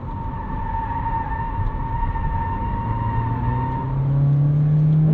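A 2023 Toyota Corolla Cross Hybrid XSE in sport mode accelerates out of a corner, its engine drone rising steadily and growing louder toward the end.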